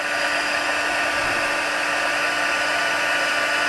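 A handheld craft heat tool blows a loud, steady, close hiss as it heat-sets heat and stick powder on a stamped paper project, droning unbroken with no talking.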